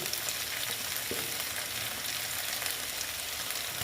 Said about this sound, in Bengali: ভালো মতন ভেজে নিচ্ছি